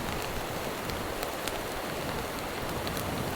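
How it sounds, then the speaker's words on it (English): Sleet and rain patter steadily on a tent during winter camping, a dense, continuous hiss of fine drops with a few sharper taps, close and even throughout. "It's on the verge of snowing, but I think it's sleet, unfortunately."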